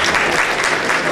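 An audience applauds steadily, a dense, loud wash of many hands clapping at once with no pauses.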